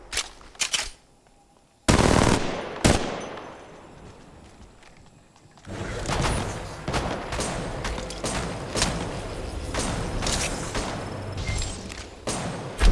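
Rapid automatic gunfire bursts crack loudly in Apex Legends Mobile, arriving in a few sharp volleys early on and then a long dense stretch of repeated shots with game effects.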